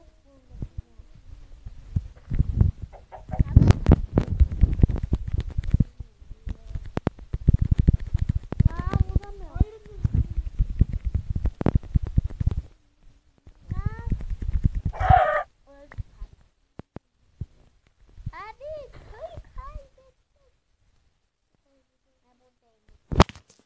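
Chickens clucking intermittently in a game, short bursts among thumping footsteps and impacts, fairly close, with quiet gaps near the end.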